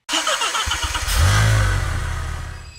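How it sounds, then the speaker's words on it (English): AI-generated car engine starting effect made with ElevenLabs: a crank and catch that swells into a loud, close rev, then settles into a steady rumbling idle. "Car engine starting."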